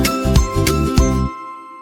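A bicycle bell rings in a children's nursery rhyme: three bright, metallic dings in steady rhythm over soft music, each ringing out before the tune fades.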